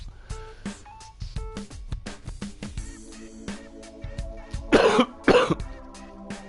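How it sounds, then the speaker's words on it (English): A person coughs repeatedly, a string of short sharp bursts at close range with a couple of heavier, harsher coughs near the end. "I'm starting to cough"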